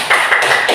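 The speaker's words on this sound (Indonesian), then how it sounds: "tepuk tangan untuk kelompok 1" A short burst of classroom applause for a student group, several quick claps close by lasting under a second.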